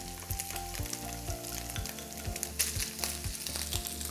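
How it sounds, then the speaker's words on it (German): Ground meat and onions browning in a pan for Bolognese sauce, crackling and sizzling steadily while low rhythmic thumps and a musical tone run underneath. "gebe ich die Zwiebeln hinzu, damit die auch noch ein bisschen mit anrösten können."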